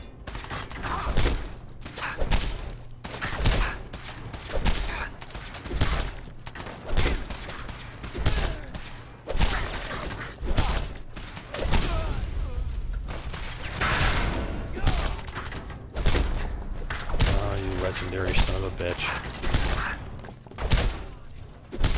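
Dense, rapid gunfire crackles almost without pause through a video-game battle against gunners and super mutants, loud, close bursts overlapping with heavy thuds.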